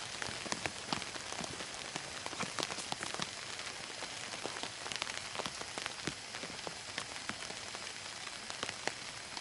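Rain patters densely on a DD tarp over a one-man bivvy camp set up in a garden, a steady close hiss of many sharp drops with no voices.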